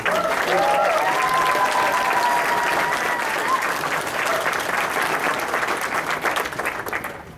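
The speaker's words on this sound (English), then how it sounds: "So I want to give them a round of applause for the support." A convention audience applauds the event's sponsors, a dense, steady wash of clapping that fills the hall for about seven seconds before thinning slightly at the end, with some crowd noise mixed in.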